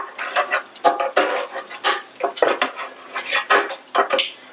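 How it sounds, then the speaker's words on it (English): Chicken wings flipped over in an air fryer basket, uncoated low-carb wings: a run of close metallic clinks and scrapes of tongs against the basket, repeated irregularly throughout with no talk. "I'm just flipping them over"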